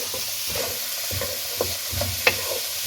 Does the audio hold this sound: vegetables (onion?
yes